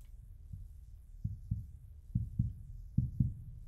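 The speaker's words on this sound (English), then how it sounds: "Why is my heartbeat getting louder?" Heartbeat effect in a horror video game, thudding in low double pulses that grow slightly louder and closer together over a few seconds, alone without talk.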